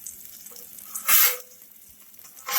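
Onions cook with Worcestershire sauce on a Blackstone griddle, giving a low steady sizzle broken by two loud hissing bursts as liquid hits the hot surface, close up, with no talking.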